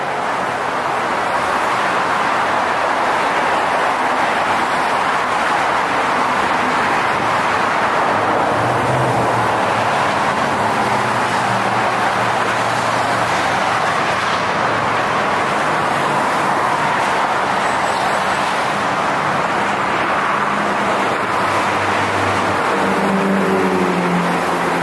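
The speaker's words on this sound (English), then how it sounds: "Wonderful traffic." Steady road traffic streams beneath a pedestrian overpass in Los Angeles, a continuous loud wash of tire and engine noise with occasional vehicles swelling past, and no talk.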